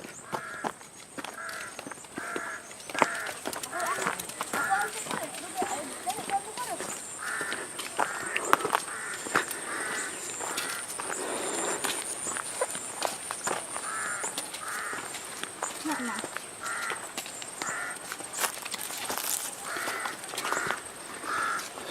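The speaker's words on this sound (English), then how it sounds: "Sounds like a crow." A crow caws again and again in short repeated calls, at moderate distance outdoors, steady through the whole stretch, while people talk and footsteps shuffle nearby.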